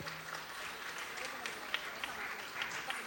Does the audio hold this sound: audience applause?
yes